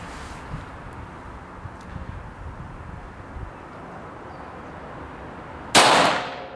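A single sharp report from an old Belgian military and police pocket pistol of the WWI to interwar era rings out near the end, after a stretch of low outdoor background noise, then decays quickly.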